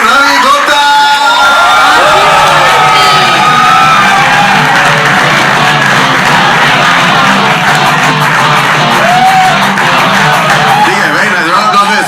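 A live studio audience at a show taping shouts, whoops and cheers loudly and continuously, a dense crowd roar that stays strong for the whole stretch, with some clapping mixed in.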